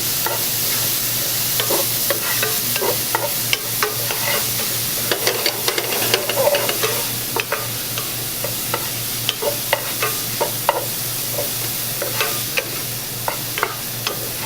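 Onions fry in a pan for South Indian chicken curry, a continuous close sizzle broken by frequent sharp scrapes and clicks of a spoon stirring against the pan.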